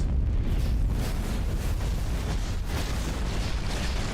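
Rocket explosion in Kerbal Space Program 2, a loud rumbling blast that sustains as a dense roaring burst with repeated low thuds and crackle, heard alone without talk.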